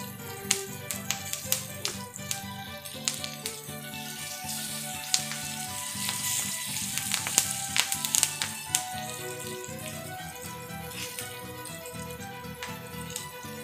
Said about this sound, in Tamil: நான் கொஞ்சமாக கருவேப்பிலையில் சேர்த்துக்கிறேன் வாசனைக்கு.